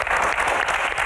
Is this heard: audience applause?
yes